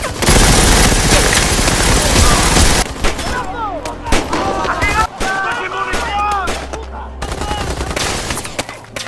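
Heavy battlefield gunfire from a war film, dense overlapping rifle and machine-gun bursts with booming blasts, loud and close, later thinning to scattered shots mixed with shouting voices.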